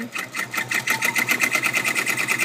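A sewing machine embroiders fabric without a hoop, a steady fast chatter of stitches running continuously and close, with no talking.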